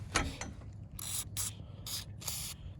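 Short bursts of WD-40 lubricant spray onto a stuck vehicle lever, about five quick hissing puffs in an irregular rhythm, close and fairly quiet, with faint rubbing between.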